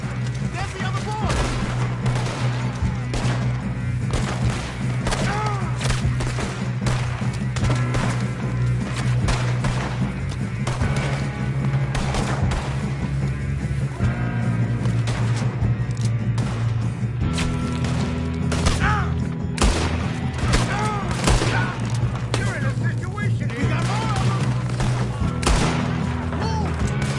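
Loud, continuous gunfire from a Red Dead Redemption 2 shootout, with rapid overlapping shots and booms throughout, a steady low hum beneath, and occasional voices mixed in.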